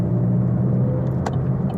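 Chevrolet Camaro sports car engine rumble while driving with an automatic transmission, a steady loud low drone filling the interior with road noise and a couple of faint brief higher clicks.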